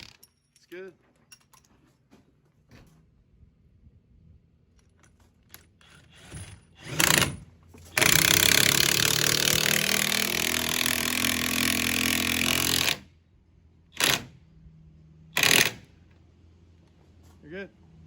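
Power driver with a socket tightening a bolt during a cheap DIY cabin build, one sustained loud whirring and grinding run of about five seconds, framed by shorter bursts, clunks and people talking nearby.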